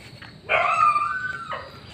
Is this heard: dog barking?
yes